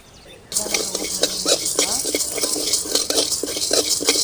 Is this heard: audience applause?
no